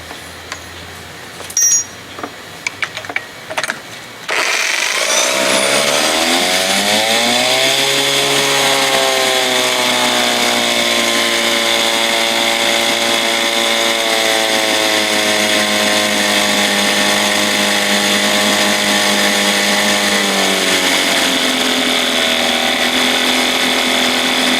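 A 1975 Johnson 4 hp outboard motor is started after a few clicks and knocks. It then runs loud and steady, with its revs climbing, holding at a high buzzing pitch and easing slightly near the end.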